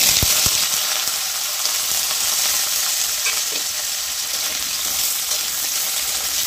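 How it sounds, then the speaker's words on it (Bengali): Cut medium potatoes frying in a pan over tempering spices, making a steady, close, continuous sizzle with a couple of stirring knocks at the start and no voices. "ফোড়নটা একটু ভেজে নিয়ে আমি এর মধ্যে দিয়ে দেবো কেটে রাখা আলু।"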